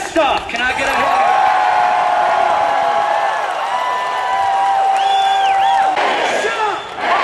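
A large political rally crowd roars, cheers and whoops in a steady, loud, sustained wave, with shouts rising over the noise and the cheering thinning slightly near the end.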